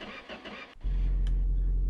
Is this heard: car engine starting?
yes